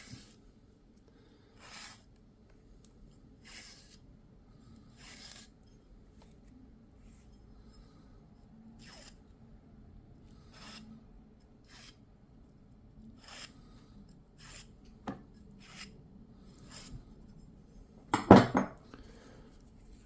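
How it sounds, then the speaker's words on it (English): The unsharpened back of a knife scrapes along sinew in faint, evenly spaced strokes, each a short dry rasp, ending with one sharper clack near the end. "I'm going to take the back of a knife, and by back I mean an unsharpened edge. I'll just scrape it."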